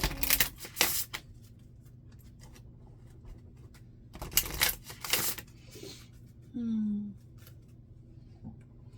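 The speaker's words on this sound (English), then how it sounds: "Shuffle, shuffle, shuffle." Playing cards riffle in a few short, crisp bursts up close, separated by quiet pauses and small handling clicks.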